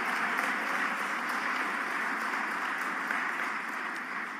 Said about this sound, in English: Can you kindly give them a round of applause